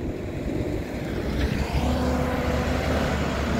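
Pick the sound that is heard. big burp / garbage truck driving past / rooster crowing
garbage truck driving past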